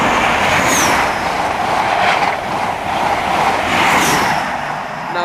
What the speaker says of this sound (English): a Virgin Trains East Coast service on its way to London King's Cross with the East Midland Trains HSTs on the front